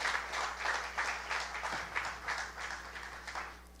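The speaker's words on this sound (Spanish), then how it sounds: "Vamos a darle un aplauso al Señor," A church congregation claps during a sermon, a lively pulsing applause in uneven waves over a faint steady hum, with no clear talking.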